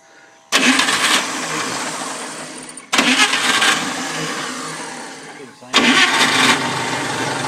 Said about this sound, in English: we're going to fire it off and show you the oil pressure here